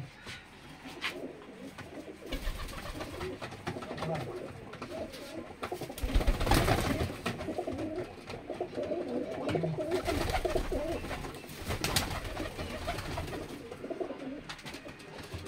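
A flock of pigeons released from a rooftop perch and flying off, with steady bird sounds and soft cooing, louder bursts of wing flutter and movement near six and twelve seconds, no talk.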